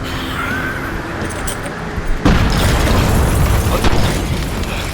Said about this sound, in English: Cannons loaded! Fire again!